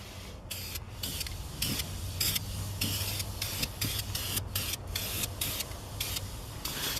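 A high-pressure spray paint can coats a van dashboard, giving a continuous close hiss broken by rapid, quick bursts.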